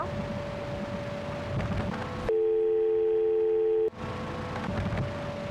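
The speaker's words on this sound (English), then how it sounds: "Mysterious phone call. Subject is lured away by a brief phone call." Phone call tone in a horror office game set in a call center, a loud steady electronic dial-tone-like hum lasting about a second and a half, cutting in abruptly over a noisy background and stopping just as suddenly.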